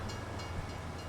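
A train passes in Farming Simulator 25, a steady low rumble of rolling rail cars with a faint hiss above, continuous and fairly close with no talk over it.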